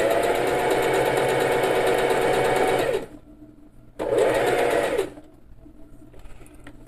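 A Singer 4423 sewing machine runs a zigzag stitch up close in two bursts, a loud rapid mechanical whir lasting about three seconds, a brief pause, then another second of stitching before quiet.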